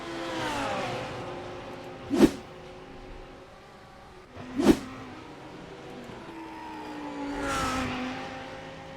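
A Lamborghini GT3 race car engine roars in a racing game at Zandvoort, holding long rising revs broken by two sharp upshift cracks, loud and close, with no talk.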